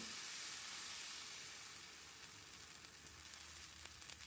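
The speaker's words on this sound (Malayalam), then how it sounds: "ഇനി ഇതിലേക്ക് മാവ് കോരി ഒഴിച്ചു കൊടുക്കാം" Dosa batter poured onto a hot seasoned iron griddle sizzles in a steady, bright hiss that starts strong and eases slightly, close and continuous with no talking.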